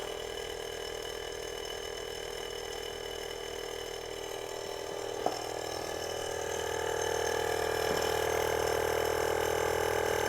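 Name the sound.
air suspension compressor pump running on Porsche 997 911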